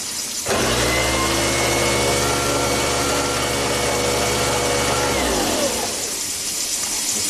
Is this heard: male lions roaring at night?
no